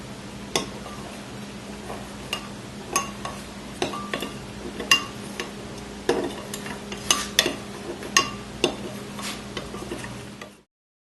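Simulated blood being stirred and mixed together, a steady wet scraping with a string of sharp clinks and taps against the container, fairly close, with no talking.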